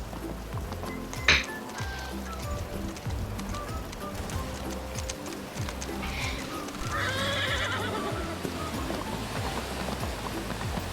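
A horse whinnies once amid a constant rhythmic clatter of hooves in the video game Wild West, with a busy game-like background of layered noises throughout.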